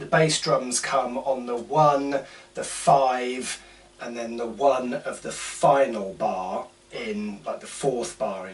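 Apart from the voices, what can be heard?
No distinct noise like a dog, phone or traffic.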